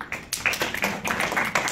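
Scattered clapping from a college forum audience answering a question comes as a few quick, uneven bursts, close and moderately loud, over a short moment.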